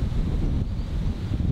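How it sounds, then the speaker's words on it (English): Strong wind buffets the microphone on a golf course at Bowood Park, a loud, steady rumbling roar with no other sounds. "It's a big wind"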